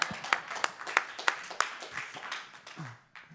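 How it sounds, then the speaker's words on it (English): Scattered, sparse clapping from a small audience at a business talk, a few distinct claps in a rough rhythm that quickly thin out and fade, fairly quiet. "Round of applause for that."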